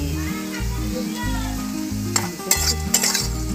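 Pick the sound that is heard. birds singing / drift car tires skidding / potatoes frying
potatoes frying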